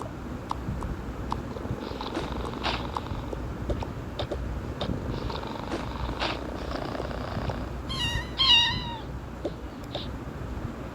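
A cat meows and purrs in the Toca Boca video game, the sounds soft and steady over a constant background hum, with a short, brighter meow rising near the end.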